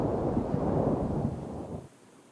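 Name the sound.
thunder rolling in video game Jurassic World Evolution 2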